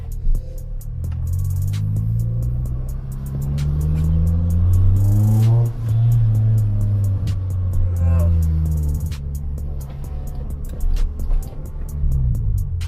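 A Toyota Corolla drives along a street, its engine rumbling low and close with rising and falling revs as it shifts, with a few faint clicks and bumps over the steady drone.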